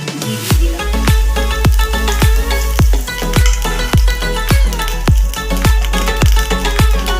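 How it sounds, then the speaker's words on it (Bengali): Ghee sizzles and crackles steadily in a hot pan on the stove, a loud, continuous frying hiss broken by sharp spattering pops every half second or so, with no voices. "পাত্রটা আমার গরম হয়ে গেছে, ঘি দিয়ে দিলাম।"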